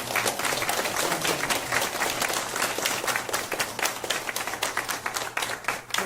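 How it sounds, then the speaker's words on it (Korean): An audience at a press conference gives sustained applause, dense overlapping clapping close by with sharp individual claps standing out, moderately loud and unbroken for six seconds. "다시 한번 큰 박수 부탁드립니다"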